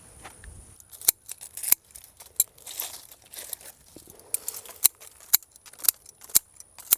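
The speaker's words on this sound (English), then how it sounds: "For the branches, I just use scissors." Sharp snipping clicks of scissors cutting garden branches, irregular at first then falling into a steady rhythm, close by with no talking.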